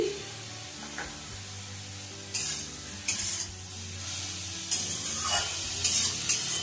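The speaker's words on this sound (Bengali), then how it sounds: "এবার সব সবজিগুলোর সাথে পেঁয়াজটা একটু ভালো করে ভেজে সেদ্ধ করে নেব" Onions, green chillies and capsicum frying in a pan as momo filling, a soft steady sizzle broken by repeated spatula scrapes and stirring strokes that grow busier toward the end, close up with no speech.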